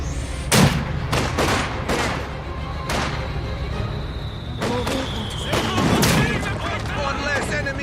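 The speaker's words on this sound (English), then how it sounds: "Infantry shooting at us!" Infantry gunfire in a battle: several sharp, loud shots and bursts ring out at irregular intervals over a constant rumble of combat, with a thin whistling tone drifting through the middle.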